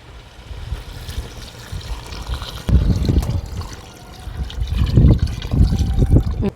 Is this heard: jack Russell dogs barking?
no